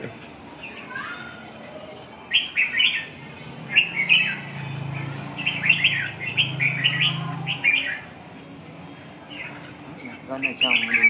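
A red-whiskered bulbul sings repeated bright, warbling phrases at close range. A low voice murmurs softly beneath the song for a few seconds.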